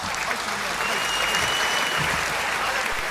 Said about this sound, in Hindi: हेमंत पांडे के लिए एक बार जोरदार तालियां बजाइए